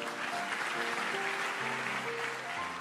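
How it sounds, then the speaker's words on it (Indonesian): A church congregation claps together in steady, dense applause, moderately loud and filling the room, with faint music underneath. "Yang percaya kasih tepuk tangan untuk Tuhan."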